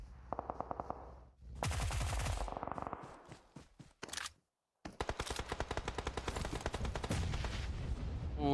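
Loud gunfire in a PUBG Mobile esports match: rapid automatic bursts and sprays, close and punchy, with a brief pause before another long stream of shots.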